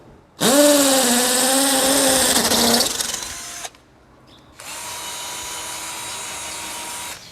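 A large cordless drill whirs loudly for about three seconds drilling into a concrete wall, winding down, then after a short pause runs again at a steady high pitch until the end.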